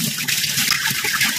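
Steady gush of tap water running over lettuce being washed, loud and close, with continuous splashing and no pauses.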